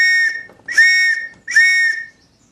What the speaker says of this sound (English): there'll be an all clear siren or my trusty ARP whistle